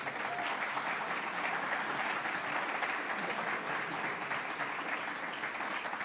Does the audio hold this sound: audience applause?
yes